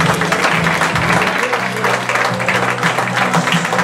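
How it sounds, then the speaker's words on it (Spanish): Guests at a quinceañera clap in a dense, steady burst of applause that fills the room throughout, with a low musical hum underneath. "¡Fuerte el aplauso!"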